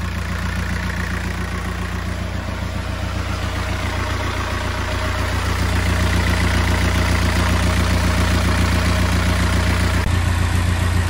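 A boat engine runs just after an alternator repair, a loud, steady, close mechanical drone with a rapid rhythmic chug that holds even throughout, with no voices.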